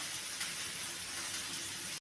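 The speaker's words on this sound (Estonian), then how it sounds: "ja nüüd praen sibulad ära." Onions frying in a pan give a steady, even sizzling hiss that runs unbroken at moderate loudness, with no voices.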